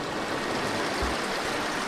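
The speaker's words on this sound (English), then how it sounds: "So there's the hot spring source," Hot spring water pours from its source into a pool, with river water rushing in nearby; a steady broadband wash of flowing water runs close and loud throughout, with no talking.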